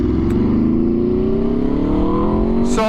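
Aprilia RSV4 sportbike fitted with a Leo Vince exhaust revving hard, a loud close engine note climbing steadily in pitch over a few seconds with dense harmonic roar and no talking.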